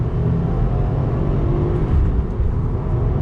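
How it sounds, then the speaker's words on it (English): A 2020 Subaru WRX Performance Package pulls away from a dead stop, a deep, steady engine rumble heard loud and close from inside the car. "I want to do acceleration from a dead stop on throttle."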